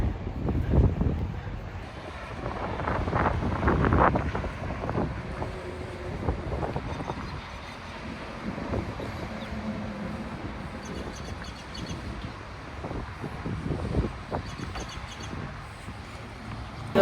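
Dusty wind gusts outdoors in Amarillo, Texas, roaring and buffeting the microphone in heavy low rumbles that ease slightly midway, with no voices.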